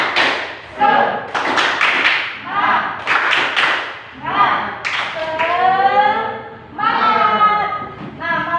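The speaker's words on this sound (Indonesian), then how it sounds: "Tepuk semangat." A class of children does the rhythmic 'tepuk semangat' spirit clap, with bursts of group clapping in a steady pattern mixed with loud chanted voices, close and lively throughout.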